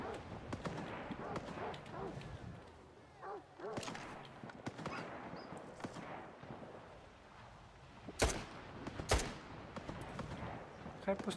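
Bursts of gunfire from the video game S.T.A.L.K.E.R. 2 crackle in the distance as bandits fight, with a couple of louder sharp shots near the end and quiet speech now and then.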